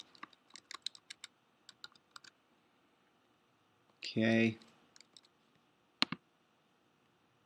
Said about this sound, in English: I'm using my arrow keys for pinpoint accuracy.